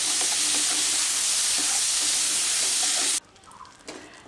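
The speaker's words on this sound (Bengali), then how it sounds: "দিয়ে আমি ভালো করে মশলাগুলোকে কষিয়ে নেব 2 মিনিট।" Spices with salt and turmeric sauté in a hot pan for a Bengali potato and pointed gourd curry, giving a loud, dense, steady sizzle that cuts off abruptly after about three seconds into near quiet.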